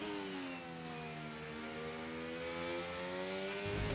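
A Formula 1 car engine in the racing game F1 25 hums at high revs with harmonic whine sliding slowly downward, steady and close, then a brief low thump near the end.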